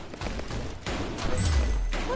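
Gunfire in the Roblox game Arsenal, a fast run of shots over a busy game background, moderately loud with no talk.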